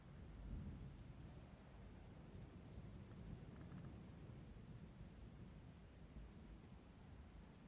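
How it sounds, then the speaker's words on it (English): Steady low rumble of a video-game thunderstorm, with continuous rain hiss and rolling thunder throughout, fairly quiet and without voices. "Storm."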